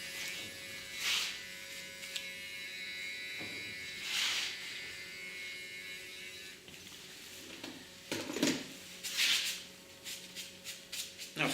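An electric hair clipper runs steadily at close range with a constant motorized buzz, its pitch shifting slightly as it moves through hair, with brief scraping touches throughout.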